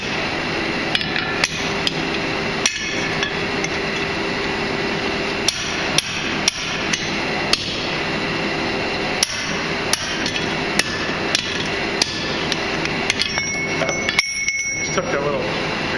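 Hot steel being forged into an axe, with a hammer striking and drifting the eye, giving sharp ringing metallic blows at an irregular pace, near and loud over a low workshop hum.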